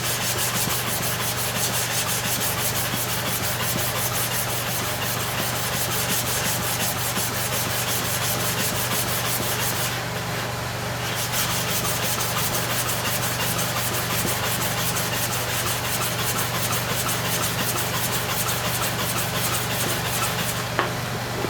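A hair clipper blade is worked over a sharpening stone coated with oil and sharpening powder, making a continuous gritty rubbing and scraping that stays steady and close, with a short lighter pause midway and no speech.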